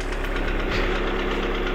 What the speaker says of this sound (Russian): Ну как можно мотор что-то мыть, если вот такой вот стук стоит?